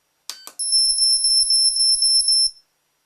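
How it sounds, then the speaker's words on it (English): An ELITE-TEK ET-9898 remote dog training collar in ultrasonic mode gives two sharp clicks, then a loud, high-pitched string of rapid beeps lasting about two seconds. "And if I press ultrasonic button, it'll make 7 beeps."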